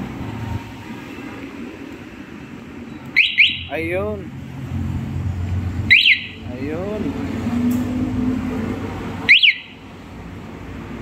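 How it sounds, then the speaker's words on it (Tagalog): A Rusi Sigma 250 motorcycle alarm chirps three times with rising and falling electronic tones, spaced a few seconds apart over a low rumbling background, with brief talk. "Okay, try na itong alarm."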